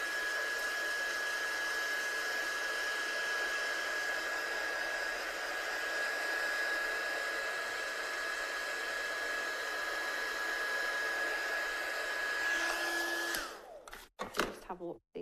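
A heat gun blows a loud, steady whooshing roar over a salt-textured watercolour card for about thirteen seconds, then cuts off, followed by a few clattering handling sounds.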